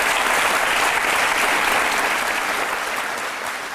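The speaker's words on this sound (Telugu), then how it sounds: "మీ అందరి కోసం మీరే బాగా చప్పట్లు కొట్టుకోండి." Studio audience on a Telugu television talk show bursts into sustained, dense applause that stays loud and steady throughout, with no voices over it.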